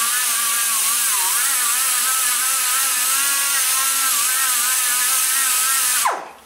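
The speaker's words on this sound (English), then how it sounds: "This is a cross buff." Cross buff polishing the chamber of an Imhoff 186 after 200-grit sanding, giving a steady, close, high-pitched whine with a slightly wavering tone that stops abruptly near the end.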